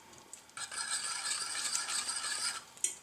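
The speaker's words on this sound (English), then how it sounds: "Stir it around." A spoon stirring tomato, dill and basil soup in a pot makes a soft, steady scraping rattle lasting about two seconds, quiet and close, with a small clink near the end.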